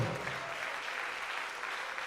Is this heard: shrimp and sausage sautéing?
no